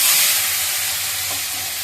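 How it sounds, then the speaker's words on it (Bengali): Panch phoron spices splutter in hot oil in a wok with a loud, dense, steady sizzle and crackle, heard close and alone for a couple of seconds. "পাঁচফোড়নটা ফুটে উঠছে বন্ধুরা"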